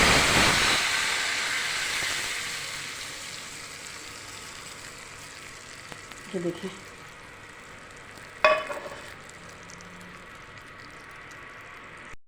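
Hot tadka is poured over dhaba-style masoor dal, setting off a loud sizzling hiss that quickly fades to a faint simmer, with a few short words spoken.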